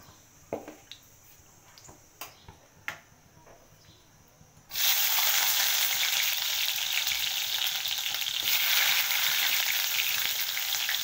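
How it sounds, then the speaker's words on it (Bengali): Mustard oil poured into a hot kadai for dhaba-style chicken curry: a few soft clicks and taps, then a sudden loud, continuous hissing sizzle that fills the rest of the clip. "আমি এখন তেল দিয়ে দিচ্ছি।"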